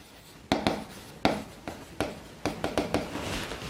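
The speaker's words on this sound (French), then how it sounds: "Allez, on va mieux écrire ça." A marker writes on a board in a series of sharp, separate strokes and taps, irregular in rhythm, close and fairly clear with no talk.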